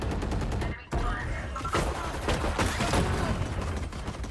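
Rapid Desert Eagle pistol shots crack in a Valorant match, a burst of sharp, loud gunfire with a short gap, then further shots and clatter.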